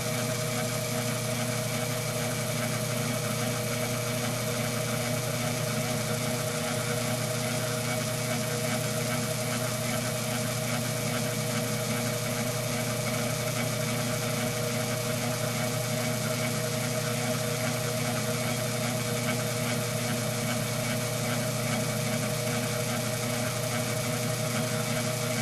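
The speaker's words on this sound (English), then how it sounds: "I run it in the slowest speed I can in my machine. Which is 350 RPMs" A lathe spins at its slowest speed of 350 RPM, making a steady, even mechanical hum and whine that runs unchanged throughout, close and alone.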